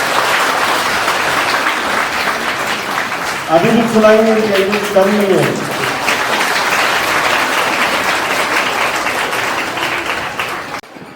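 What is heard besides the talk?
audience applause at award ceremony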